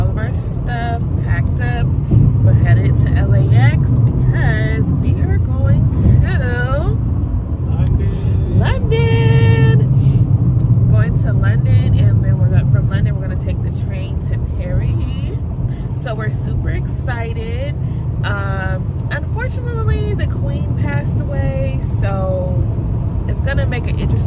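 A car carrying travellers to the airport rolls along the road with a steady low engine and tyre rumble heard from inside the cabin, while people talk over it throughout.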